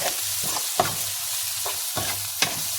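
Spiced bhurji masala being stirred in a frying pan: a steady sizzle underlies several distinct spoon scrapes at irregular intervals, close and fairly loud, with no voices.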